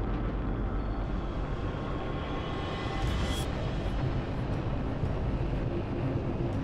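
Italjet Dragster 200 scooter picking up speed on a road ride, a dense, steady engine drone mixed with heavy wind rush, loud and continuous, with a brief higher whine partway through.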